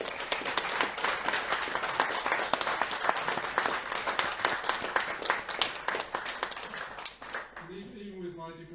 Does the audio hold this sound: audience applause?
yes